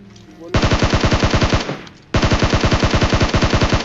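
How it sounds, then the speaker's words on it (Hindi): Rapid automatic gunfire from bots at a military base in a video game, two loud close bursts of evenly spaced shots separated by a brief pause. "मिलिट्री बेस में अगेन कुछ बॉट्स फायर करते हैं"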